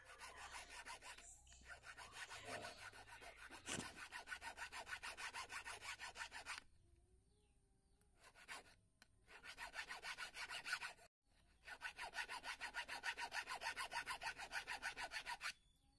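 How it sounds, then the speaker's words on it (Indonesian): A metal hand file works a homemade eel fishing hook in rapid, rhythmic back-and-forth rasping strokes, close and steady, broken by a few short pauses. "Lalu kita pakai kikir ya"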